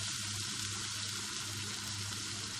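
Meat for kadai gosht frying in masala in a pan, a steady, dense sizzle that holds at an even level throughout with no pauses and no voices.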